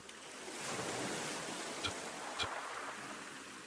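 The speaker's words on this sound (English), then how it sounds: "The waves arrive and retreat." Gentle ocean surf rolls in and draws back in a steady, soft wash of broadband noise, with two brief swells cresting slightly louder midway through.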